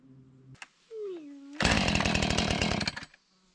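A chainsaw cutting notches into a timber post for bunk framing roars loudly for about a second and a half, after a short sliding mechanical whine and faint sounds at the start.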